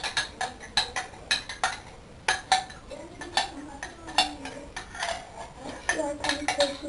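A spoon stirs a food mixture in a bowl at home, giving repeated clinks and scrapes against the dish in an uneven rhythm, close by, with faint murmuring between strokes.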